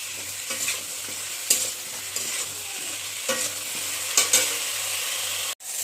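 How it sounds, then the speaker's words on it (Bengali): Brinjal frying in a pan with salt and turmeric, making a constant close sizzle with occasional clinks and scrapes as the pieces are stirred, no talking. "নুন হলুদ দিয়ে বেগুনটাকে ভালো করে ভেজে নিতে হবে"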